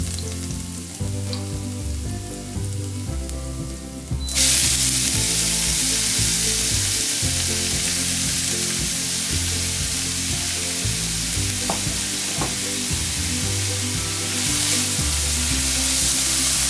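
Onion lands in a pan of hot oil with garlic paste and cumin seeds and bursts into a loud, continuous sizzle that holds steady, over light background music.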